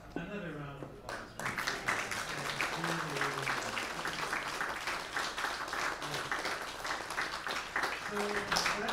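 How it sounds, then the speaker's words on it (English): Applause from the audience at an award ceremony, starting after a brief voice and continuing as steady, moderately loud clapping throughout. "Another round of applause."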